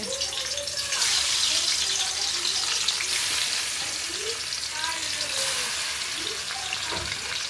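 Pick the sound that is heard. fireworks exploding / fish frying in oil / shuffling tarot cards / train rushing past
fish frying in oil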